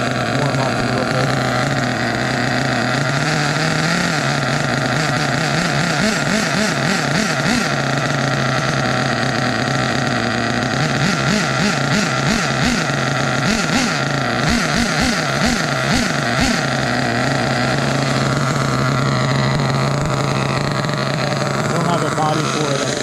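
Kyosho Landmax 1/8 scale nitro rally RC car engine warming up while running a little rich, a buzzy, wavering whine that rises and dips under steady nearby talk.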